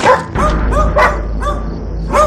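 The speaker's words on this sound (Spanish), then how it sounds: "Los perros del segundo nivel ladraban porque algo andaba muy mal" Dogs on a house's upper floor bark loudly and close by in several quick, sharp woofs with short pauses between them.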